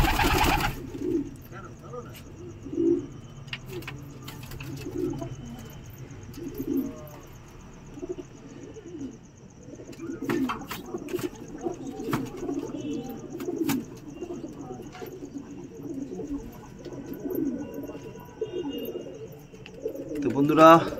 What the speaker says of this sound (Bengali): আপনারা কিছু পায়রা আপনাদেরকে দেখালাম